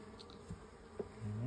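Honeybees in an opened hive during an inspection while a deep box is added, a soft steady buzzing hum close by, with a few brief knocks and a rising drone near the end.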